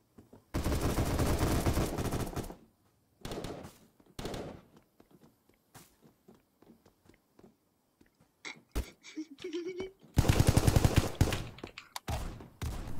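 Gunfire from a player in the Apocalypse Rising 2 video game comes as two long bursts of rapid automatic fire, plus scattered single shots and game noises.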